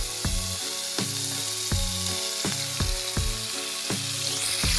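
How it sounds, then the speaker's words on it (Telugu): Chicken bites deep-frying in plenty of oil give a steady bubbling sizzle, joined by a repeating rhythmic scraping or tapping about once a second. "జస్ట్ డీప్ ఆయిల్ ఫ్రై అంతే"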